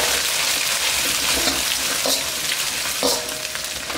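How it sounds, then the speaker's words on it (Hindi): Thinly sliced carrots fry in leftover chicken oil, a continuous close sizzle with occasional stirring scrapes and a slight swell near the end, no voices. "गाजर को थोड़ा पकने टाइम लगता है, इसीलिए गाजर को थोड़ा सा हम इसमें पका लेंगे।"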